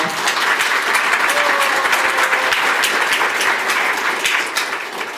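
At a Korean internet journalism awards ceremony, a hall audience applauds the association president with sustained, dense clapping at an even level that fades slightly at the end.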